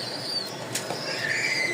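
Pigeons, a pair of Rajshahi Giribaz flying pigeons, flap their wings in a short burst of fluttering, with one sharp flurry near the middle over a faint, steady background.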